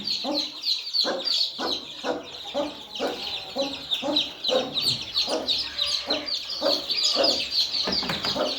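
Backyard village chicks peep and cheep in a dense, continuous chorus while being handled for vaccination, with occasional clucking and faint talk underneath.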